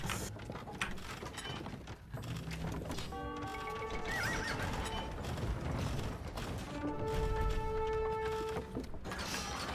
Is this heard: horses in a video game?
yes